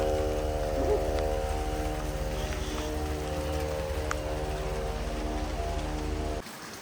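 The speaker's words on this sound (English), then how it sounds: "Definitely a nice little amount of rain we're getting right now." Heavy monsoon rain pours steadily in Mammoth Lakes while gutters flow, making a dense, continuous wash of noise over a low steady hum that cuts off near the end.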